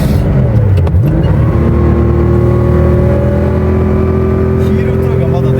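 A Porsche 911 Narrow sports car engine revs and drones steadily from inside the cabin while driving, with rising and falling engine pitch as the throttle is worked, and someone talking over it.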